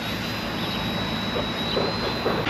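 An Eachine E110 tiny toy RC helicopter flies nearby, its small motor producing a continuous high whine and airy rotor hiss that wavers slightly as it maneuvers.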